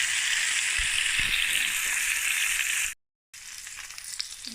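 Boneless fish sizzles and fries steadily in a pan, a dense loud crackle with a few soft clinks, cutting out briefly before the frying resumes.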